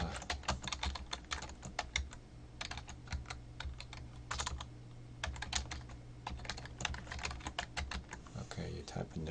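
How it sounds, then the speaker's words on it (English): Steady keystrokes on a computer keyboard as a note is typed, clattering in quick irregular bursts with short pauses, close and clear over a faint low hum, no talking. "you type a note there and you click save."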